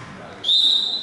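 A referee's whistle at a netball match between the Tigers and Trojans blows one sharp, sustained shrill blast to call a penalty, loud over a murmuring indoor crowd.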